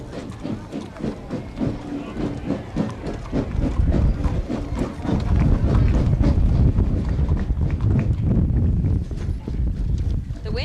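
Horses walking in the 1990 Lompoc Flower Festival Parade, a steady clip-clop of hooves on pavement, fairly close and continuous, with light breeze noise on the microphone.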